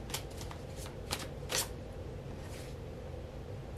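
Tarot cards drawn from a deck: soft papery riffles and slides in a few short bursts, close and fairly quiet against a steady background hiss, with nobody speaking.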